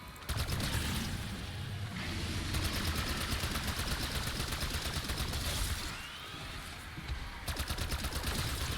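Sustained automatic weapon fire in Black Ops 6 Zombies rattles on in long rapid bursts, loud and close, with a short pause partway through and no speech.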